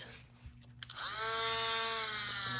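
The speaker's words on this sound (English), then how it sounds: "turn down my drill a little bit" Small rotary drill spinning up to a steady high whine for light sanding of resin butterfly edges, preceded by a few faint clicks and handling sounds, close and fairly loud.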